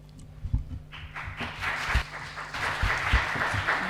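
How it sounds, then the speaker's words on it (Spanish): Conference audience applause after a speaker's introduction at a constitutional justice conference session: a sustained wash of many hands clapping that builds after the first second and stays steady, with a few louder individual claps near the front. "aplauden a la presentación"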